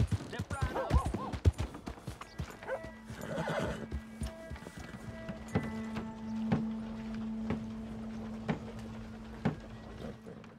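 Horse in the Red Dead Redemption 2 game, hooves clip-clopping in a steady walking rhythm after an opening whinny, close and moderately loud, with a faint mechanical hum underneath.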